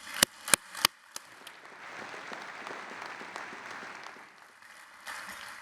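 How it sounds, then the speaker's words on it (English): Audience applause at a conference keynote by an Atomico founder: a few sharp, close claps open, then a sustained wash of clapping from a crowd, steady and moderately loud before tapering slightly. "So maybe big applause one more time for Niklas, please."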